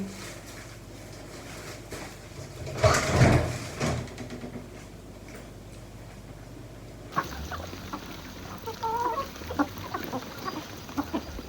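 Chickens cluck and murmur in scattered bursts, fairly close, after a loud rustling thump near the start, as they are let out and fed wheat.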